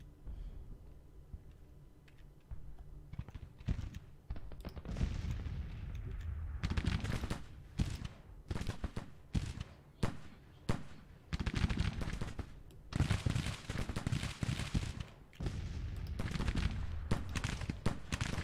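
Gunfire crackles through a Grand Tactician battle near Proud Run, with dense irregular volleys of musketry and sharp reports that start sparse and build into sustained rolling fusillades.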